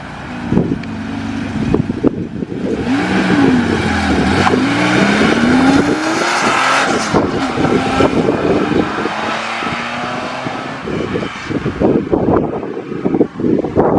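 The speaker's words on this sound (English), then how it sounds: "didn't that Carrera sound good?" A Porsche Carrera sports car pulls away from a classic car show onto a country road. Its engine note rises and shifts through the gears, sustained and fairly loud, with wind buffeting the microphone and no talking.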